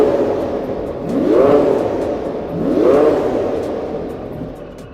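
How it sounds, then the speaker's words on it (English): Twin-turbo V12 engine of a Krafla hypercar engineering prototype revving inside a warehouse, two distinct swelling revs a second and a half apart, each rising then falling back to a chunky idle. "it does sound chunky. And even with the turbos, you can still tell it's a V12."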